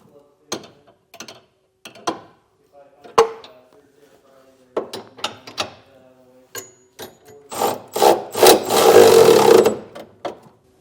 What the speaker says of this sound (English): We will tighten down our 4 bolts in our center section.